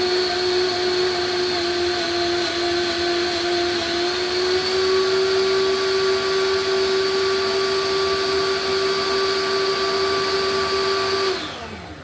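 A kitchen food processor cuts cheese with a steady, loud motor whine that rises slightly in pitch midway and then spins down and stops near the end.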